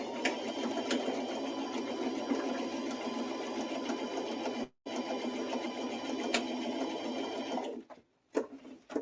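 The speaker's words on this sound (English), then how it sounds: "you're going to reverse stitch when you start and when you end" A sewing machine runs steadily, top stitching along the edge of a clutch lining, a close continuous whirring hum that cuts out briefly twice as stitching stops and restarts.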